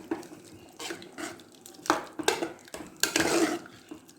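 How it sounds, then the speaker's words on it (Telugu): Metal utensil scraping and clinking against a pot of horse gram dal with coriander leaves in several uneven bursts, close and fairly loud, with no voices. "ఒకసారి కలుపుకుందాం"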